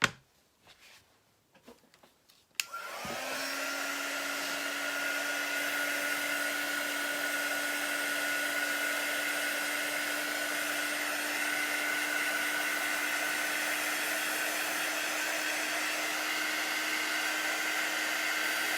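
A handheld quick-dry heat tool is switched on to dry chalk paste on a crafting transfer. A short clatter comes first, then a steady, loud blowing whine with a constant pitch that runs alone.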